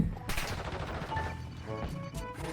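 Rapid bursts of automatic gunfire in Warzone Mobile, close and loud, with several sharp volleys crackling over one another throughout.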